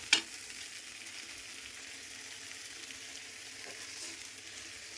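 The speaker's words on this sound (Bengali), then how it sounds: "এই তেল ছাড়তে সাইড দিয়ে আমি এখন চিংড়ি মাছগুলো দিয়ে দেবো" Shrimp go into a pan of pointed gourd and potato curry cooking in oil, making a faint, steady sizzling hiss after a brief clatter at the start.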